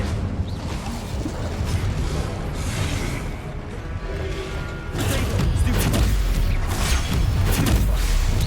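Magic combat in Hogwarts Legacy with an Incendio fire spell cast, heard as whooshing bursts and heavy thuds that swell louder partway through, layered over a dense game soundscape.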